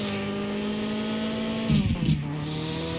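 Car engine in the driving game Mon Bazou, a steady droning hum with a brief surge of revving and rougher engine noise near the end, loud and continuous with no talking.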